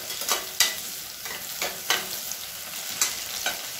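Onions sautéing in a pan for Tamil sambar rice, a steady sizzle punctuated by several sharp stirring scrapes and clatters at irregular intervals, close and moderately loud with no talking.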